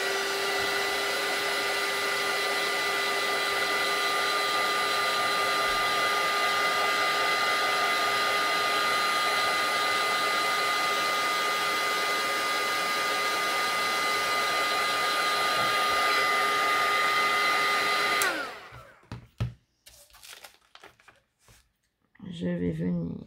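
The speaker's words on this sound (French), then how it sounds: "Donc je vais déjà chauffer ma mousse." A crafting heat gun blows loudly and steadily for about eighteen seconds while warming craft foam for stamping, then cuts off and leaves a few handling noises and light rustles.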